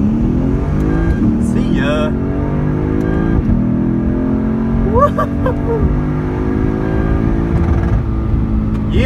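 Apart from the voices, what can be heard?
Dodge Magnum SRT8 on slicks with supercharger accelerating at drag strip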